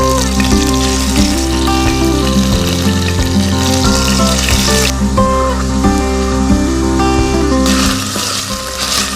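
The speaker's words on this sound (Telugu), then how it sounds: "మనం ఇప్పుడు ఇందాక మనం మ్యారినేట్ చేసుకున్న చికెన్ని పీస్ బై పీస్ లైట్గా ఫ్రై చేసుకుందాము" Marinated chicken pieces frying in a pan, a dense steady sizzle and crackle of hot oil running throughout, loud and close, with no talking over it.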